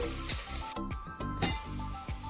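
Onions and curry leaves fry in a pan for an Andhra-style spicy mutton curry, giving a steady close sizzle broken by a few louder scraping stirs.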